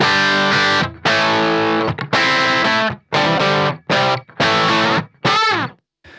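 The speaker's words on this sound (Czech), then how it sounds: "A jeden z režimů je teda režim vintage, zní asi takhle." Electric guitar played through the distortion channel of a BluGuitar Amp1 set to vintage mode, in the style of a Marshall JTM45: loud, saturated chords and riffs in several separate bursts with short gaps between them, and no talk.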